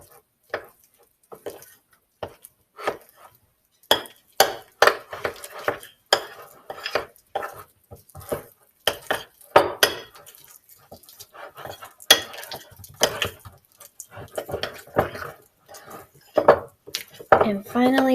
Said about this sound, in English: And we'll start by mixing this up a little bit here.